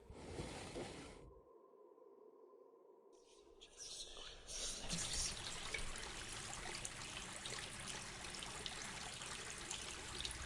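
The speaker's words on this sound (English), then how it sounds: "The broken pipe under my sink spews water." Water gushes from a broken pipe under a kitchen sink onto a flooding kitchen floor, a steady broadband spray that swells louder after a few seconds and keeps running without a break.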